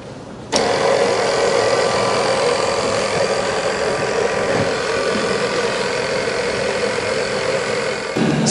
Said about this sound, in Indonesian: Kita kecilkan juga kecepatan mixer ya.